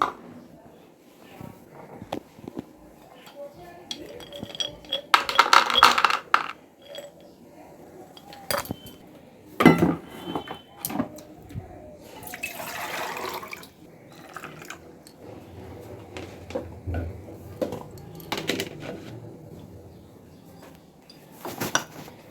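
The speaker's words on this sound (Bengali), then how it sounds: "আর এখন তো নিজেরাই বাসন মেজে নিচ্ছে" Dishes and utensils are washed by hand. Cutlery clinks and pots knock in scattered bursts, along with running and dripping water, and a voice can be heard at times in between.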